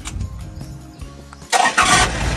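A truck engine is cranked by its starter, with a short run of mechanical clatter and whirring before the engine catches and roars into a loud, rough idle.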